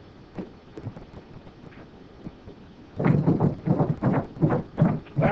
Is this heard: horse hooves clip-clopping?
yes